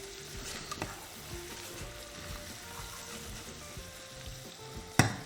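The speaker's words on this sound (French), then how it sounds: "Donc, les oignons, ils fondent tranquillement." Onions fry slowly in a pan with a gentle, steady sizzle, punctuated by a few soft stirring knocks and a sharp clack near the end.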